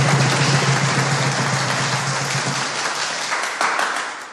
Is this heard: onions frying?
no